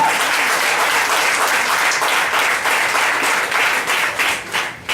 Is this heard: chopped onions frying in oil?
no